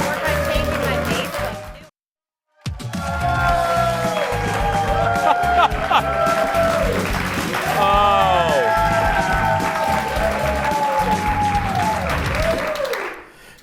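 A television studio audience claps steadily with scattered cheers and chatter. After a brief pause the clapping resumes loudly for about ten seconds, then stops abruptly.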